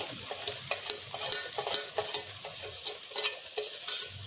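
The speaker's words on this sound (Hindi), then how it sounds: "नमक और अदरक लहसुन का पेस्ट साथ में डाल दिया, थोड़ा सा इसको भून देंगे" Salt and ginger-garlic paste with spices sizzle in a hot pan while being stirred, with steady frying crackle and scraping strokes of the spoon, close and without talk.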